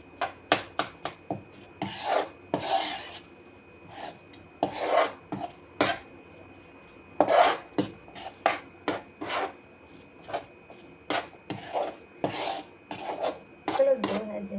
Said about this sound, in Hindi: तो मैं कढ़ाई में मिक्स कर लेती हूँ